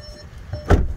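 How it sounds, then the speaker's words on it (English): Door locks on a Volkswagen Atlas SUV release with a single short mechanical clunk, heard close and fairly loud over a faint low hum, with no talking. "it helps to unlock all of the doors"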